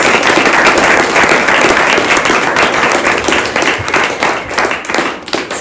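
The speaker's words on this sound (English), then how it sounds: "Can we please give one more round of applause to all of our amazing speakers?" A loud, dense burst of audience applause for the speakers at a small business event, steady clapping from many hands that thins slightly toward the end.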